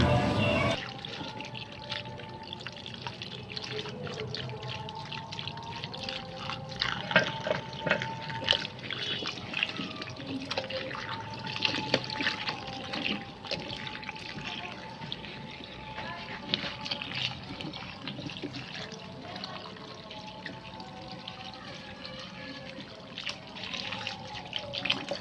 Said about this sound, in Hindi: अब हम इसको अच्छी तरह से धोएंगे।